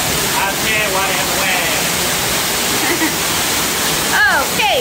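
Steady rushing, splashing water at a Disney attraction, a loud continuous wash like a waterfall filling the whole scene, with voices talking faintly under it.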